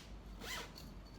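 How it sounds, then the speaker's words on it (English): A zipper pulled shut along a fabric wardrobe in a quarantine facility room, one quick close rasp over a steady room hum. "you can just zip it up"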